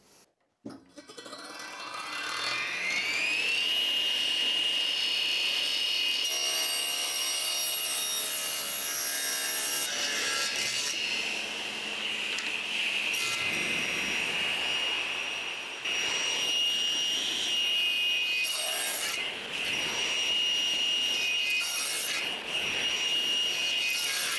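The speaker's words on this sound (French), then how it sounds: "avec le guide parallèle, on va pouvoir découper l'autre côté de manière parallèle justement" A power saw cuts pallet wood along a parallel guide, a loud, close, sustained whine that rises as the blade spins up, then holds a steady, rough cutting roar with slight dips in pitch.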